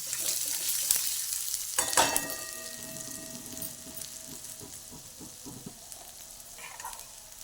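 Spinach sautéing in a pan with asafoetida, cumin powder and chilli, a soft steady sizzle with stirring scrapes, faint and close, with no voices.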